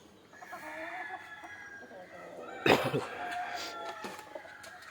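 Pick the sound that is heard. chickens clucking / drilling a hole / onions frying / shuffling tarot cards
chickens clucking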